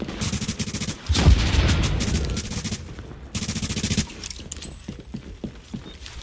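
Gunfire and a grenade blast from the video game The Division: a dense burst of rapid shots with a heavy thump early on, then a second volley of firing and scattered single shots trailing off, all loud and close.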